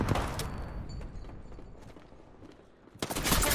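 Gunfire in the battle royale shooter Apex Legends, a burst of rapid shots at the start, scattered quieter pops, then another loud volley near the end, no talking.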